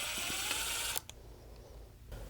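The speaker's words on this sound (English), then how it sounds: "pry it under the cap, pop that off" A plastic adjustment knob cap on a Steelcase Gesture office chair popped off with a flathead screwdriver: one sharp close click, then a fainter tick shortly after, in a quiet room.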